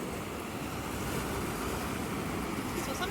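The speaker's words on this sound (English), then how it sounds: "when the waves crash, it brings in more of the seaweed" Ocean waves wash onto an Australian beach on a gloomy day, making a faint, steady hiss of surf mixed with wind noise, with no clear individual crashes and no talk.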